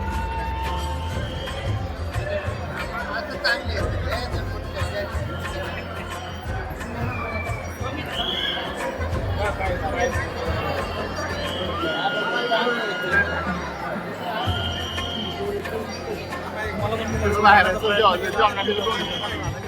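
Dense crowd of devotees at the Swami Samarth temple in Akkalkot, a continuous murmur of many overlapping voices and chatter, close and busy, with a nearby voice talking over it.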